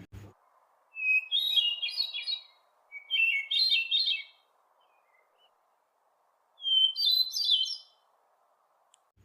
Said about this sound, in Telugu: యుఎస్ ప్రాంతంలో ఎక్కువగా కనిపించే హెర్మిట్ థ్రష్ అనే పక్షి విజిల్ సౌండ్ తరహా అందంగా పాడుతుంది